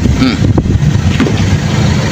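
Strong wind buffets the microphone with a constant loud, low rumble and gusty roar throughout.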